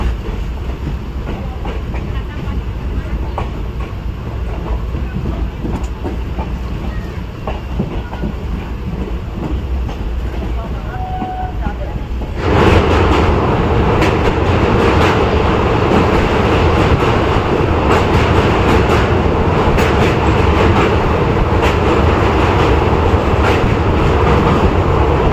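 A 13148 Uttarbanga Express passenger train runs toward New Farakka at night, its steady rolling rumble and rail clatter filling the clip from start to end and growing noticeably louder and closer partway through.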